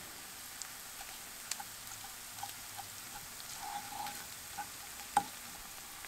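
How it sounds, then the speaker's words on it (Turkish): Onions and pepper paste fry in a pan with a soft, steady sizzle, broken by small pops and crackles and one sharper spit near the end, quiet and close, with no talking. "Soğanımı yumuşayana kadar kavurdum arkadaşlar"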